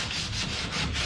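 Hand sanding, likely of wood, produces a close, rhythmic back-and-forth rasp in quick repeated strokes with no talk.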